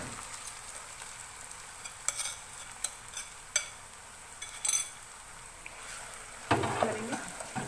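Marinated chicken fries in a pan with onions and tomatoes over a medium flame, giving a steady, quiet sizzle broken by scrapes and clinks of stirring, and a louder burst of sizzle near the end.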